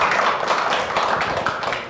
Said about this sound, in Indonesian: Beri tepuk tangan untuk kita semua yang ada di sini